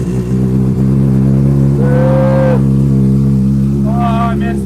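An engine idling loud and steady after a cold start, with a couple of short revs rising over the continuous rumble in an enclosed space.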